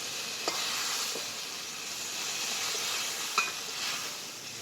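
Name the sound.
ridge gourd frying in a pan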